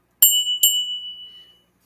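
A 24% lead crystal bell from Taiwan rings twice in quick succession, each strike a bright, pure ringing tone that decays slowly to silence in a quiet room.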